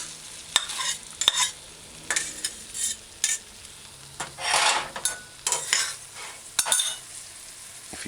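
A jerk hamburger patty frying on a stovetop with sautéed onions, heard as a steady soft sizzle broken by repeated close scraping and stirring clinks of a utensil in the pan.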